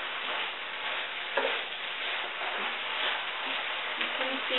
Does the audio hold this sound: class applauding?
no